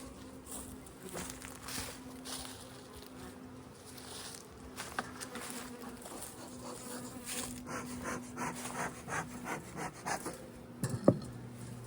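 Honeybees buzz around an open hive during an inspection, a continuous, fairly soft drone close by with occasional light handling noises and no speech.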